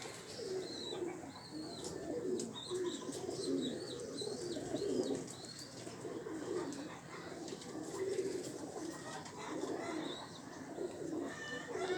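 Pigeons coo steadily in a loft, some of them dyed blue by their keeper, with repeated soft throaty coos layered together and occasional chirps over a busy background hum.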